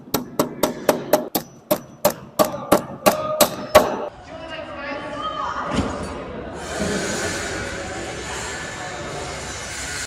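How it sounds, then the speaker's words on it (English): A nail is hammered into a metal bracket on a 4x4 post during tiny-home construction: about a dozen sharp, evenly spaced strikes, close and loud, then a scrape and a clatter followed by low handling noise. "now I can take my nail, hold it in place, and start hammering."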